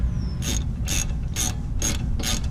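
A hand ratchet tightens Ford Mustang brake caliper bolts during a brake pad and rotor replacement, giving five evenly spaced bursts of close metallic clicking with brief pauses between strokes.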